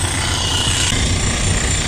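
A steady, loud mechanical hammering noise persists throughout, dense and gritty like a jackhammer working nearby, with no pauses or voices.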